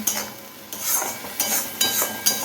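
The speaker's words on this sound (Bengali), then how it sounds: "এবার এটাকে কষানোর পালা এখন" Food being stirred and fried in a pan with tomato, a soft sizzle under repeated scraping strokes of a spoon against the pan, several strokes in an uneven rhythm, close by.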